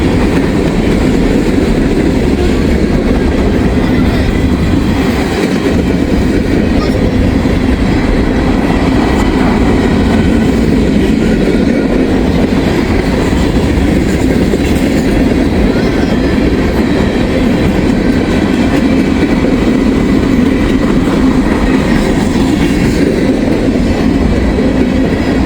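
Freight coal train with hopper cars rolling past, a loud steady rumble of wagons with faint clickety-clack of wheels on rail joints, sustained close by throughout.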